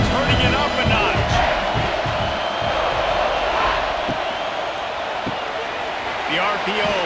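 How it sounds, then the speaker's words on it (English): Stadium crowd at a Clemson versus South Carolina college football game roars steadily throughout, a dense sustained cheer with whoops and shouts rising and falling, loud and continuous. "this crowd is turning it up a notch"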